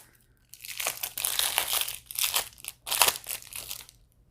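Wrapped card packs for a Scooby-Doo Betrayal at Mystery Mansion board game being torn open, a close run of crinkling, tearing plastic in several bursts with short pauses between, no talking.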